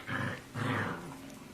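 A dog growls close by in two low, rumbling bursts, the second one longer, with quiet room tone in between.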